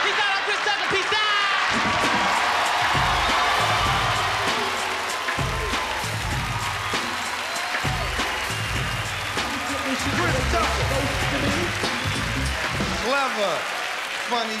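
A comedy club crowd claps and cheers in sustained, dense applause, a broad rainlike roar filling the room while a host's amplified voice talks over it.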